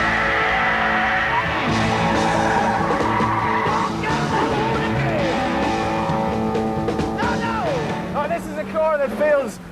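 A loud, close MGF Trophy 160 roadster engine revs hard on a race track, its pitch climbing and dropping with each gear change. A faint tyre squeal comes near the end.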